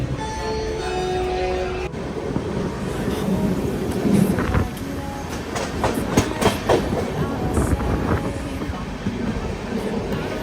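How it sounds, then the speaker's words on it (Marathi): A train arriving at Agra station rumbles and clatters close by, wheels clicking over the rails with a rising and falling rush, steady throughout. "जस्ट आता आग्रापासून ट्रेन समोर आलेली आहे."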